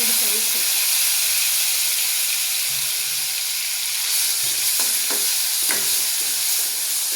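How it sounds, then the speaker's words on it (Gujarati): Grated onion hits hot oil already seasoned with cumin, asafoetida and mustard seeds for a desi chana shaak, producing a loud, steady sizzle and hiss with a few light stirring knocks near the end. "હવે થોડી આપણે ડુંગળી છીણીને એડ કરીશું।"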